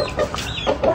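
An Aseel rooster on a rooftop terrace farm gives a few short, close clucks in quick succession, loud and clear over a light background hiss.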